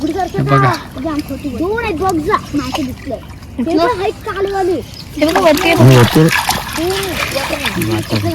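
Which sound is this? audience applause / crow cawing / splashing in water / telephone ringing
splashing in water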